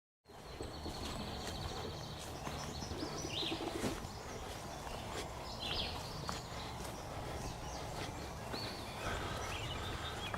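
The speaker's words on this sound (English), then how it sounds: "I've been hearing just tons and tons of birds." Many birds chirp and call at once from the surrounding trees on a hiking trail, a dense overlapping chorus, fairly distant and soft, with no voices.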